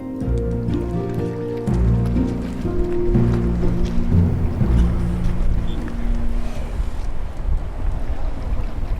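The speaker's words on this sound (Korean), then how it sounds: "남해의 살진 바람과 깨끗한 파도 소리가 함께 와서" Wind and sea waves on the South Sea coast of Korea, near a bamboo-weir anchovy fishing channel, make a steady, fairly loud rush with a low rumbling undertone throughout.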